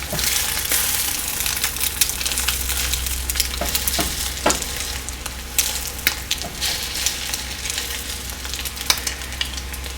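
Churro-style French toast roll-ups fry in a pan on the stovetop, giving a steady close crackling sizzle with scattered pops and light scraping as they are turned.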